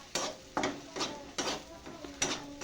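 Peanut crumbs being sautéed in a pan, heard as a series of separate scraping and stirring strokes against the pan at a steady, unhurried pace, close and moderately loud, with no talking.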